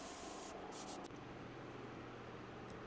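Off-white base coat paint sprayed onto a bluegill swimbait, with a few short airy hissing bursts near the start over a steady background hum, the sprayer poorly atomizing the paint.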